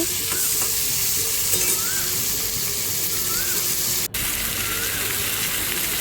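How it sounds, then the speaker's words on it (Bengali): Prawns fry in a hot pan for a Bengali dish, giving a loud, constant sizzle with steady crackle and occasional stirring, heard alone without talk. "চিংড়ি মাছটা ভাজা হচ্ছে।"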